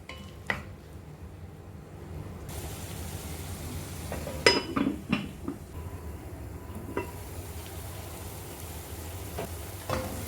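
Onions sauté in a pan with a faint sizzle under occasional stirring scrapes and a few clustered clinks of utensil on metal, close and quiet, with no talking.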